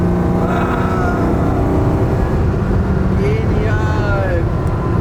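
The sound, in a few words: BMW M1 engine running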